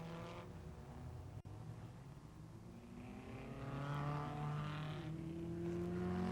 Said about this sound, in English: Verstappen, Hawthorne and Collins flat out in their powerful Lancia Ferrari V8s